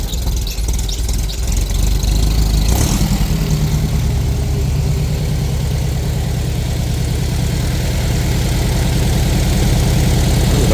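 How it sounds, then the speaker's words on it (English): A 1964 VW pan buggy engine idles at its lowest setting, a loud, close, steady low-pitched rumble with a rapid chugging pulse throughout. "We'll idle at its lowest setting."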